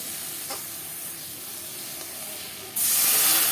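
Spices and mudfish fry in oil as a spatula works them, giving a steady close hiss and sizzle that swells sharply louder toward the end.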